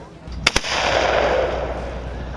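Two sharp, loud gunshots ring out in quick succession at an outdoor celebrity clay-shooting event, followed by a broad, rolling echo and steady outdoor background noise.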